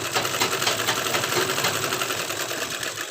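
A sewing machine runs a continuous double line of stitching on an embroidered blouse belt, a close, even, rapid whir with no voices.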